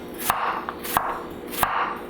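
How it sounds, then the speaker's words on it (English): Knife slicing an onion into thin crescents on a cutting board, three crisp evenly spaced cuts each ending in a light tap, close and clear with no talking. "I like to cut my onions into crescents"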